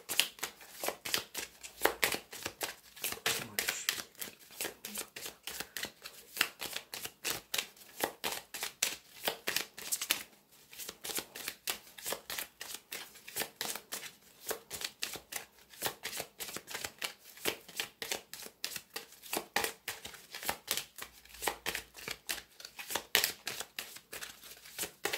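Lenormand cards are handled and shuffled on a table, giving a continuous stream of soft, rapid flicks and riffles throughout, fairly quiet and close, with no speech.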